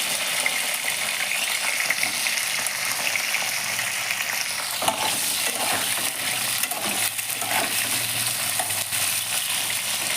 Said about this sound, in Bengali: পটলটাকে লাল লাল করে সুন্দরভাবে ভেজে নিতে হবে।